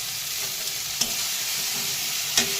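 Mustard paste and onions cook gently in a pan over a low flame, making a quiet, even sizzle with a couple of faint sharp clicks from the utensil, with no voices.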